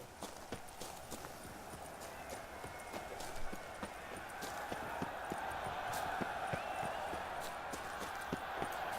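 Horse galloping in The Witcher 3 video game, rapid rhythmic hoofbeats clopping steadily over a soft background hiss, with a faint whinny-like tone partway through and a voice briefly in the background.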